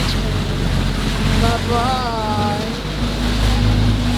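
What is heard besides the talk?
sea waves, heard from a boat near Banal Beach in Coron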